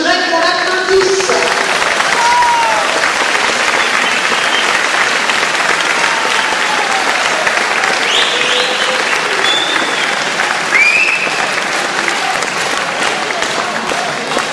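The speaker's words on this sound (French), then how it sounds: "Et je voudrais qu'on l'applaudisse." An audience at a public showcase event breaks into sustained applause, a dense, even wash of many hands clapping that holds steady throughout, with a few faint voices and cheers scattered over it.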